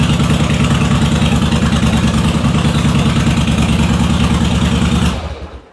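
A cold engine that has not yet warmed up idles loudly and close with a rough, even throb, then cuts off abruptly near the end.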